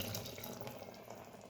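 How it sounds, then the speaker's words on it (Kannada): Water runs from a tap into a masala grinder jar in a home kitchen, a soft, steady rushing stream that stays faint and even throughout. "ಮಸಾಲೆ ರುಬ್ಬಿಟ್ಟಿದ್ನಲ್ಲ ಅದೇ ಜಾರಿಗೆ ಸ್ವಲ್ಪ ನೀರು ಹಾಕ್ತಾಯಿದ್ದೀನಿ."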